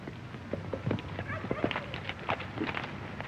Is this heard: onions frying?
no